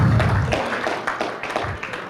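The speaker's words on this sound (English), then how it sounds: "Give yourselves a round of applause." A conference audience at a supply chain roadmap discussion applauds itself after being welcomed back for the afternoon. Scattered, moderately loud claps with uneven spacing run for a couple of seconds as the room settles.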